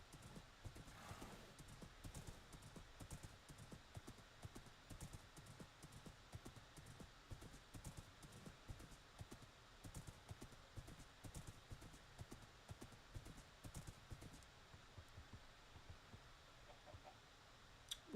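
Horse hooves clip-clop steadily in a video game, a close, regular rhythmic trot that runs the whole stretch, with faint chicken clucks and a whinny in the background.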